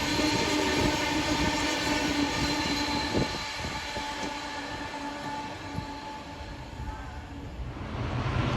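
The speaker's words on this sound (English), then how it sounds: "A Class 66 for Freightliner heads north." A Class 66 diesel freight locomotive hauling a Freightliner train passes a platform on a main line, a steady rumbling roar with wheel and rail noise throughout, swelling louder again near the end.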